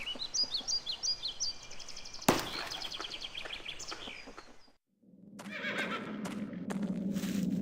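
Horses whinnying in the Black Mirror adventure game, a shrill neigh at the start followed by hoof clip-clops, a sharp thud, a brief silence and then a low rumbling ambience.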